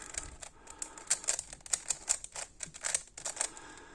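A twisty puzzle, an FTO (face-turning octahedron), is scrambled by hand with a fast run of crisp plastic clicks and clacks. The turns come close together in an irregular rhythm, quiet but near, without talking.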